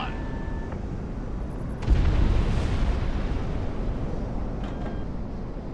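A ground target explodes in the flight combat video game Project Wingman, a sudden deep boom that swells into a long rumbling roar and fades slowly, alongside a continuous jet-engine drone.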